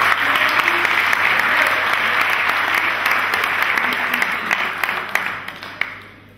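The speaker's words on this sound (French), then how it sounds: "On peut les applaudir." An audience at the JLM 2011–2012 final claps steadily for several seconds, dense and close, then tapers off at the end.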